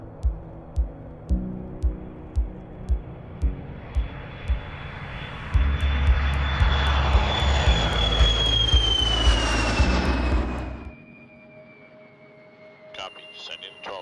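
A small aircraft arriving at Spaceport America after flying in from Mojave, California, its engine drone swelling loud with a falling whine as it passes close, then fading, over rhythmic thumping and a speaking voice.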